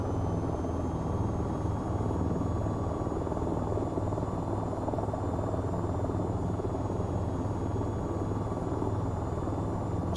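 An attack helicopter in the VR flight game VTOL VR flies with a steady, loud rotor and turbine drone that holds constant throughout, with no voices.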